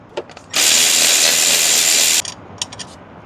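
A power tool whirs in one loud, steady burst of under two seconds while loosening nuts and bolts on the turbo of a 1JZ non-VVTi engine, with brief ratcheting clicks before and after.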